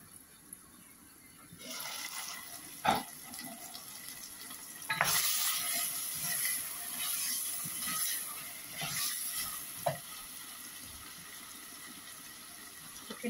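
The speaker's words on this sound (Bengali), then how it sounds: "আমি একটু কষা নিব" Chicken bhuna being sautéed and stirred in a pan, a soft continuous sizzle broken by scraping stirs and occasional clinks of the spoon against the pan, close and moderately quiet.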